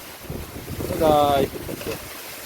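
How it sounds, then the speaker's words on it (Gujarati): Strong gusty wind roars steadily during the first monsoon rain of the season, with a short burst of voice rising briefly above the wind midway. "ભાઈ પવન તો જોવો તમે અને આ પાણી જો કેટલું આવે છે"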